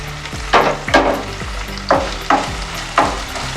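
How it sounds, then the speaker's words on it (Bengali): Garlic and onion frying in a pan, with a steady sizzle broken by five or six sharp scraping stirs of a spatula at irregular intervals, close and fairly loud with no voices. "এবার রসুনটা একটু ভাজাও ভালো করে, পেঁয়াজ আর রসুনটা"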